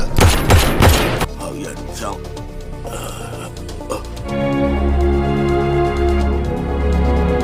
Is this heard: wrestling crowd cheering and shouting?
no